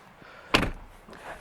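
The door of a BMW iX xDrive40 electric SUV, with electronically controlled flush handles, opens or shuts with a single close, solid thunk, followed by a softer faint knock.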